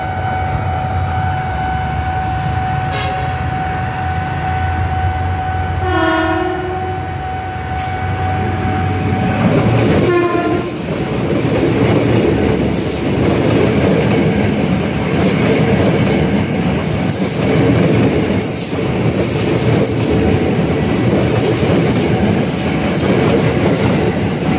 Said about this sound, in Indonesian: KAI komuter dari Tanjung Priok menuju ke kota.